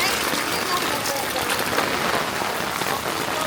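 Rain pours steadily onto an outdoor cooking area by a makeshift kitchen, a dense, even hiss filling the whole stretch with no break.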